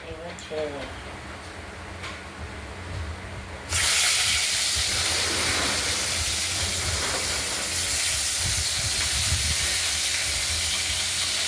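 Fish frying in hot oil in a home kitchen, a loud steady hiss and sizzle that bursts in a few seconds in as the fish hits the pan and then holds, drowning out the faint sounds before it.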